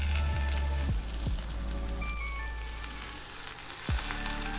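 Spinach drops into hot oil with cooked-down spices for a vegetarian palong shak dish, setting off a loud steady sizzle with a few sharp thuds as leaves land, no talking.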